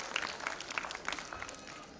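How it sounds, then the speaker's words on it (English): Parents in an audience at a school annual day celebration clap, a brief patter of scattered hand claps fading slightly over two seconds. "Please give us a big round of applause."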